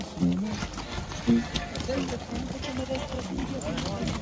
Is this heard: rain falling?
no